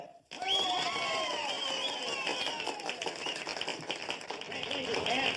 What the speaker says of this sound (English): judging from your applause, the winner is Ted Whipple.